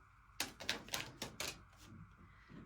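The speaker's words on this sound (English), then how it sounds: "I'm going to take some of my romance angel cards." A deck of romance angel cards is handled up close, giving about six crisp, quick clicks and snaps in an irregular run, then a quieter rustle. No one speaks.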